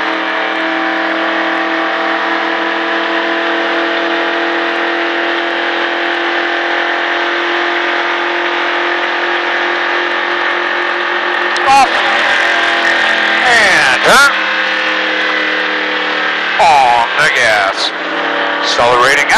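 A NASCAR stock car engine at high revs drones loud and steady from inside the car, with the tone shifting in the final seconds as the pitch wavers.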